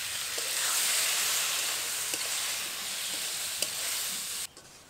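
Figs and potatoes sautéing with spices in a pan give off a steady, close sizzle and hiss, with a few soft scrapes of stirring, before the frying noise cuts off abruptly near the end.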